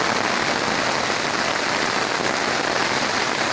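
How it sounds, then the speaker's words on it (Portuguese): Rain pours steadily on a rural farm, a loud, dense, continuous patter and hiss of drops hitting surfaces, close by and with no voices. "aqui a chuva na roça é bom demais"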